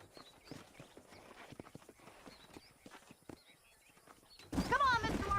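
Horse hooves clip-clop in the Red Dead Redemption video game, a quiet irregular patter of steps before louder game sound and a voice break in near the end.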